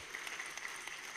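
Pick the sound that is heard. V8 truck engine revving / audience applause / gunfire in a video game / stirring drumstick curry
audience applause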